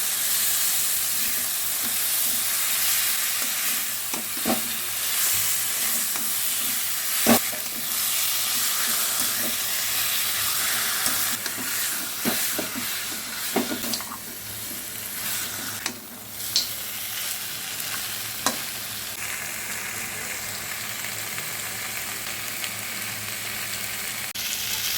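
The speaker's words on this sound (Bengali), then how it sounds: "মশলা ভালো করে কষে এলে আমরা মাটনটা অ্যাড করে দিলাম।" Mutton frying with spices in a pan, a constant loud sizzle and hiss with scattered scraping clicks from a spoon stirring the meat every few seconds.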